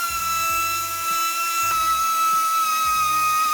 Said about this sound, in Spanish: Para repasar la zona cortada, uso o bien una lija o en este caso una piedra.